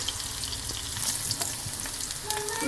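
Onions fry in a karahi pan with spices for a homemade murgh karahi, giving a dense, close, steady sizzle with faint stirring scrapes and crackles and no talking.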